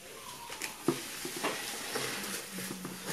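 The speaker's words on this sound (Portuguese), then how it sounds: "Vamos virar aqui a tapioca. O leite fervido," Hot boiled milk is poured onto tapioca and stirred, giving soft wet sloshing with a gentle sizzle. A spoon knocks lightly against the pot a few times, and the whole sound stays quiet and close.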